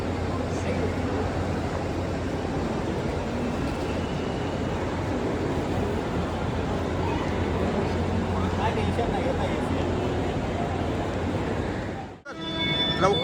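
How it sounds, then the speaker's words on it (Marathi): A train pulls into a station with a loud, continuous rumble of wheels and rolling carriages that holds steady before cutting off abruptly, a brief clatter following near the end. "ट्रेन इली वाटतं."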